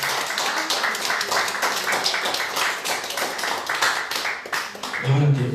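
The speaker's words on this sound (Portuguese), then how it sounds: "Aplauda o Senhor mais uma vez" A church congregation applauds during a Holy Communion service, a steady crowd of clapping hands sustained throughout, with a voice faintly audible beneath it and rising briefly at the close.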